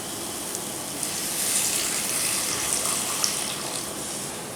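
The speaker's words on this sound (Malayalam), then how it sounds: "നമുക്കിതിലേക്ക് കുറച്ച് വെള്ളം ചേർക്കാം." Water poured into a pan of egg roast gravy in a cooker, a steady gushing splash running for several seconds, close and fairly loud, with no talk over it.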